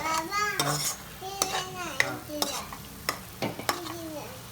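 Turmeric and cumin powder being stirred into Malvani-style prawn pulav: brief clinks and scrapes of a spoon against the pot, mixed with voices talking nearby.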